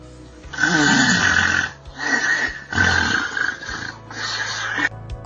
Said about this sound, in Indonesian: Ngorok disertai periode henti nafas.